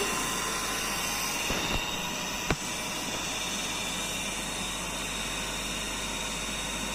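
An electric motor rated at 2710 RPM runs on a no-load test, giving a steady, hissing whir that holds level throughout, broken by a single sharp click partway through.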